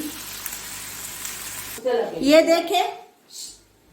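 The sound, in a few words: onions frying in a pan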